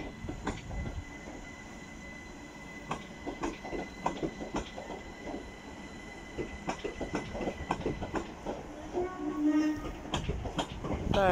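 A Class 387 electric train pulls out of Didcot Parkway station toward London Paddington, with steady rolling rail noise, rhythmic wheel clicks over joints and a brief squeal near the end, heard from the platform.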